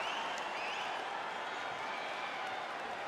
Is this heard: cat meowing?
no